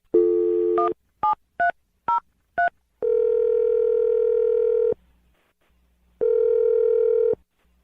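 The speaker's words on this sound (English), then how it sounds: "We're going to dial the phone number right now" Telephone keypad tones beep in a quick run of short dialed digits, then a steady ringback tone sounds twice with a silent pause between, clear and close over the line.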